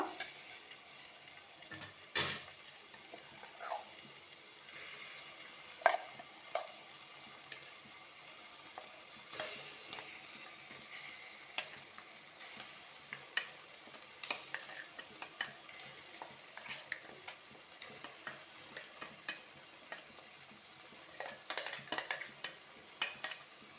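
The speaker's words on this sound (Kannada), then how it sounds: "ಈಗ ಟೊಮೆಟೊ ಕೂಡ ಫ್ರೈ ಆಗಿದೆ, ಚೆನ್ನಾಗಿ ಫ್ರೈ ಆಗಿದೆ ನೋಡಿ" Tomatoes fry and get mashed in a pan for a coastal sardine curry, a steady sizzle broken by frequent spoon taps and scraping stirs.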